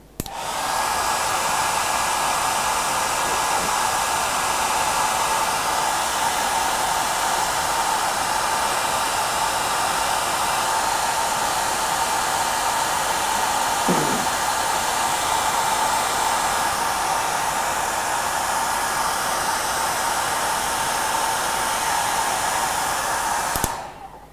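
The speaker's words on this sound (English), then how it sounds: "I'm going to dry this with a hairdryer." A hairdryer blows continuously on wet paint, a loud steady whooshing hum that starts abruptly, runs unbroken for over twenty seconds and cuts off at the end.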